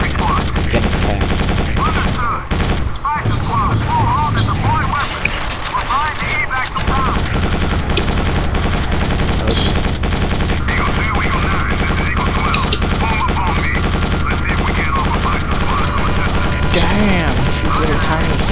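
Enemy gunfire in the Quake 4 video game, with dense rapid bursts and repeated shots crackling continuously over a loud game soundtrack and effects, with a brief lull partway through.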